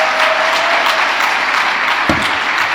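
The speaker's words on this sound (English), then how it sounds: "Can we have another round of applause" Audience applause fills a graduation ceremony hall at a Dubai resort, a dense, steady wash of clapping from a large crowd held loud throughout without any voices on top.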